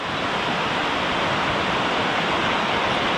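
A creek runs beside a private lodge in Aspen, Colorado, its steady broadband rush of water continuous and close throughout, with no voices.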